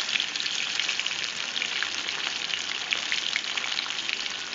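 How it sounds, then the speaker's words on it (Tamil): Steady, dense sizzling of anchovies (nethili) deep-frying in hot oil, close and continuous, with crackling pops throughout and no talking. "எண்ணெயில் போட்டு பொரிக்கிறதுனால சீக்கிரமாக பொரிஞ்சிடும்"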